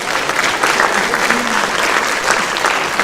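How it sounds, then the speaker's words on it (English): A high school freshman forum audience claps in sustained, loud, even applause that fills the room throughout, without a break. "Give them a round of applause, too, please."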